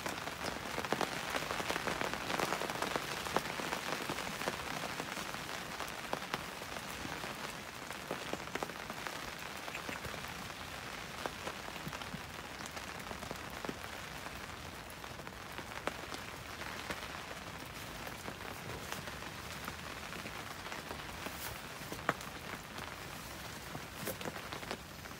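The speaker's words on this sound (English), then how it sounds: "Getting some fair lashes of rain now." Steady, dense rain pattering on a taut tarp overhead during a storm while hammock camping, with occasional louder drops standing out; no voices.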